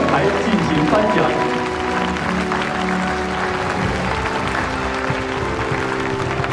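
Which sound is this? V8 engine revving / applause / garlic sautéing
applause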